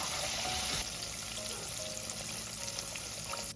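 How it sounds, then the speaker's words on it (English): Chicken tenders frying in hot oil, a steady crackling sizzle with a brighter burst as they go in, moderately quiet and close, no voices. "Be careful when placing them into the hot oil."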